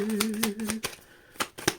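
A deck of tarot cards being shuffled by hand, a run of crisp, evenly spaced riffling snaps close up, with a faint tone under the first half and a short pause before the final flicks.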